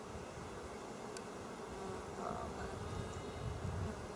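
Honeybees drone in a steady, faint, continuous buzz around an open hive during an inspection, with no voices over it.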